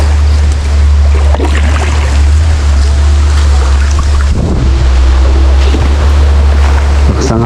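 Strong wind roaring over the sea on a boat, buffeting the microphone in a loud, constant blast, with waves and water motion beneath and brief gusting surges.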